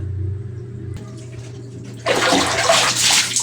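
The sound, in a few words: water poured from a dipper over hair while bathing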